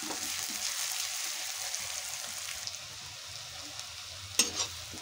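Onions fry in a pan while being stirred toward golden brown, a soft, steady crackling sizzle with faint scraping of the spoon and a brief louder clatter near the end.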